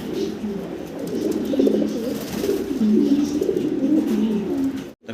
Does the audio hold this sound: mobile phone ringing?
no